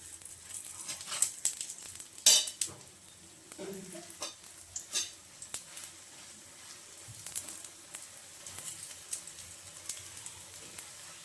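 A flour and egg snack fries in white oil in a pan, a soft continuous sizzle broken by scattered utensil clinks and scraping taps, close and moderately quiet, with no clear talk.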